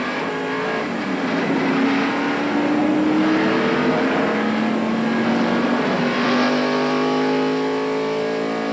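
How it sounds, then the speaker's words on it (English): A race car accelerates out of the pits at the 1993 Daytona 500, its engine a loud, continuous roar that climbs steadily in pitch as it comes up to speed, with no voices over it. "Here he is coming up to speed, running around the flat part of the racetrack, getting it back up to speed."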